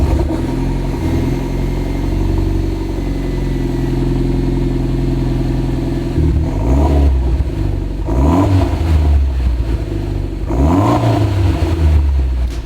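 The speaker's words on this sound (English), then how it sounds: "This is the way the exhaust currently sounds." A Mitsubishi Lancer Evolution X on its stock exhaust idles steadily, then gives three sharp revs that rise and fall back close by, each with a throaty surge.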